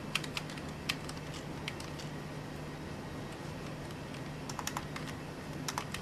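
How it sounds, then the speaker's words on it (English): Fast, light clicking of typing on a computer keyboard, with irregular bursts of keystrokes close to the mic over a faint steady hum in a quiet room. "they can click on Michael Myers, hit enter, and this will allow them the opportunity to write something related to Michael Myers"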